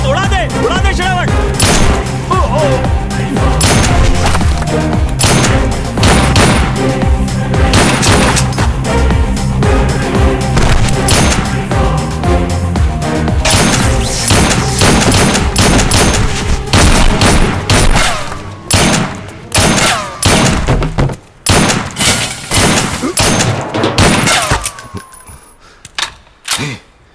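Rapid gunfire bursts crackle through an action movie shootout over a dense, loud soundtrack, with voices mixed in, the shots thinning to scattered cracks before fading near the end.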